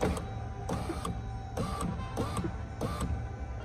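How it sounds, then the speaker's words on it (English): A Dodge Durango power window motor rolling the glass up, heard as a series of repeated whirring bursts with short pauses between them, close and loud with no talk. "I'm going to go ahead and roll up the window"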